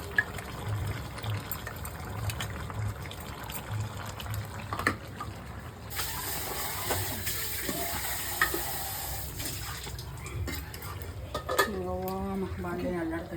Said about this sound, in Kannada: ಬಾಂಡೆ ಅಲ್ಲಾಡ್ತಾ ಇದೆ.